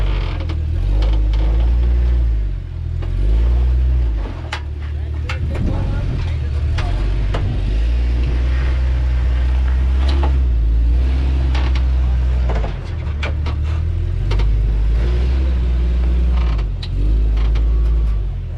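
An off-road vehicle's engine rumbles and revs heavily on the Rubicon Trail while tackling the Soup Bowl obstacle, a steady, loud low drone with surging swells and mechanical creaks, with voices partly heard over it.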